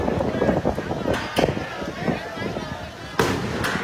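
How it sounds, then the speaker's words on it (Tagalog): A burning container truck's tire bursts on a city bridge, sending a sharp, loud blast out of constant wind and crackling fire noise, followed moments later by a second strong pop. "sumabog na yung I think pangatlong gulong na ata ng container truck na ito"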